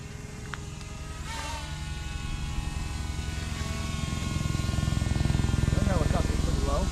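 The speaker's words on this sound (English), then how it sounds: "That helicopter's pretty low." A low-flying helicopter makes a steady, pulsing rotor thump that grows louder over several seconds, with brief bits of speech and other noises heard over it.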